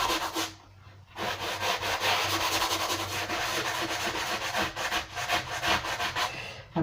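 Cardboard bead tray sanded smooth by hand, close and steady back-and-forth rasping strokes that run continuously after a short pause near the start, with no voices.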